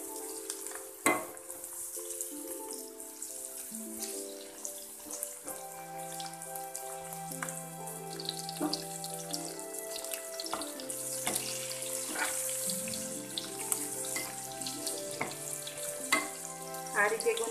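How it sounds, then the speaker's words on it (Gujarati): Stuffed gunda cook in hot oil with a soft, continuous sizzle and occasional light pops and stirring clicks, fairly quiet beneath background music. "આ રીતે ગુંદાને 5 થી 7 મિનિટ માટે તેલમાં ચડવા દીધેલા છે."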